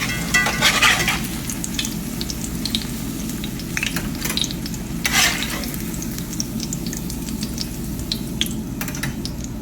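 Squash patties fry in a hot pan with a steady, close sizzle and crackle, alongside occasional louder spatters and stirring sounds.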